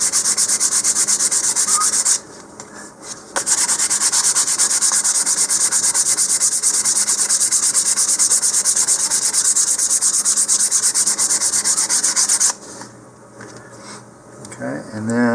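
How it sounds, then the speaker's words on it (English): 150-grit sandpaper rubs around a molded plastic model rocket nose cone, a steady close, loud scratchy sanding that runs almost unbroken, with two short pauses and a softer stretch near the end. "I'm going to use the 150 to go all the way around the nose cone"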